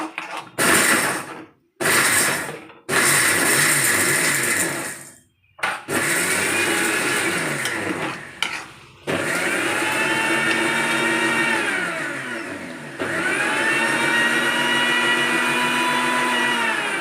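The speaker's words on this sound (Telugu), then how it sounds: "ఈలోపు ఇది మిక్సీ చేసుకొస్తుంది" Kitchen mixer grinder running in loud whirring bursts, starting and stopping several times before settling into a long continuous high-pitched blend, close by with no talk.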